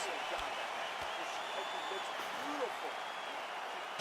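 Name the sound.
crowd applause after a round in UFC video game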